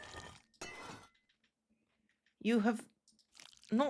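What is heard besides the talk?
Minecraft honeycomb being crushed, video game sound effect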